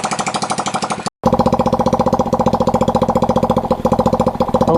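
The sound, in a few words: Yamoto 70cc ATV engine idling and warming up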